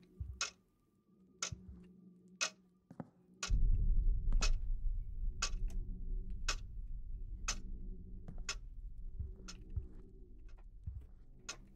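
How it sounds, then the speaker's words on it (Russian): A clock ticks steadily in the horror video game Insomnia, with sharp, evenly spaced ticks heard close and alone over a faint low rumble that swells partway through. "ну да, часы."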